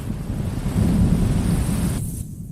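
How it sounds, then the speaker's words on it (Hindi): A storm at sea, with a loud deep roar of wind and rumbling thunder that swells and then cuts off abruptly near the end. "बॉस, तूफान का केंद्र सीधा हमारी तरफ आ रहा है।"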